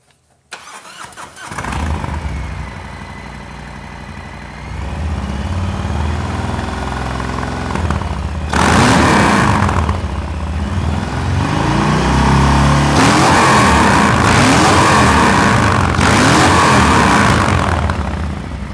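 A Harley-Davidson Milwaukee-Eight Fat Bob fitted with an S&S Super Street 2-into-1 exhaust cranks and fires up, settles into a deep, loud lumpy idle, then gets several strong throttle blips with rising revs that fall back to idle, close and with no talking.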